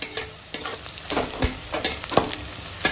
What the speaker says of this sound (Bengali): ওই তেলেই এখন দিয়ে দিলাম পেঁয়াজ কুচোনো, মাছ ভাজার তেলেই পেঁয়াজটা ভেজে নেবো।